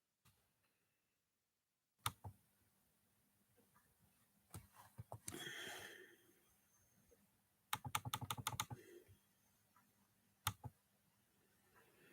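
Bursts of keystrokes on a computer keyboard, quick clustered clicks separated by pauses, one fast run near the end, with faint room noise between and no voices.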